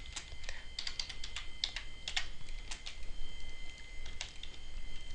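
Rapid clicking of a computer keyboard while C++ code is typed, an uneven flurry of close keystrokes running throughout over faint room hiss.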